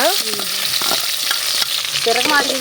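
Onions frying in hot oil with crackled mustard seeds and cumin for poha upma. A loud, close, steady sizzle comes with repeated stirring scrapes and clatters.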